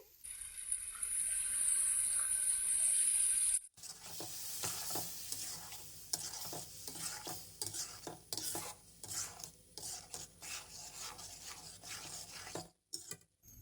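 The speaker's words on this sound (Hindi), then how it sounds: "मसाले को हम मिक्स करके अच्छे तरीके से भून लेंगे 3 से 4 मिनट" Green masala spice paste frying in a pan with chicken, a loud hiss at first, then spoon stirring and scraping with crackling sizzle, close by.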